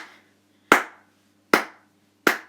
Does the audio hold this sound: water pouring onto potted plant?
no